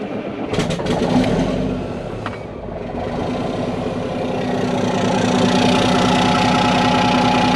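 An engine that sat unused for 16 years cranks briefly, catches, and settles into a steady, rough idle. The rumble is close and loud and continues alone without talk.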